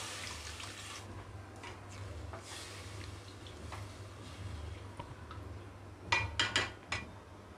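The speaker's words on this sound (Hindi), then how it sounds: "अभी हम इसके अंदर ये 2 ग्लास तक पानी डाल देंगे ताकि आमड़ा अच्छे से बॉईल हो जाए।" Water pours steadily into a pot of aamra set to boil for chutney, a continuous close splashing that ends with a few sharp clinks of the vessel, with no talking.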